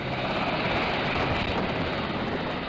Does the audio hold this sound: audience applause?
no